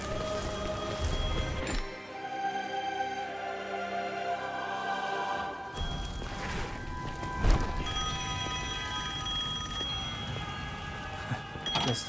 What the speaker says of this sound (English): Guess the phone still works.